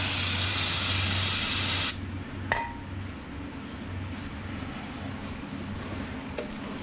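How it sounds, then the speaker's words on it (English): Contact cleaner sprayed from an aerosol can onto a microfiber cloth while deglazing brake rotors: a loud, steady close hiss for about two seconds, then it stops, leaving a faint background hum and a couple of small clinks. "spray it on the microfiber cloth"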